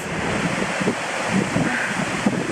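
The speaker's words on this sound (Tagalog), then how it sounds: "Yung waterfall, grabe yung current." Powerful waterfall with a strong current in Negros, Philippines, a steady broadband rush of falling water roaring close by, with wind buffeting the microphone throughout and no voices.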